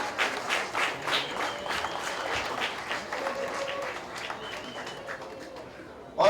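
An audience claps at an airline's 20th anniversary cocktail reception, scattered and uneven at first, then thinning toward the end, with some background murmur.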